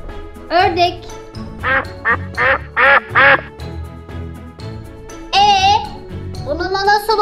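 A voice imitates a duck quacking in a rapid series of loud, nasal quacks, with bright music and chimes underneath.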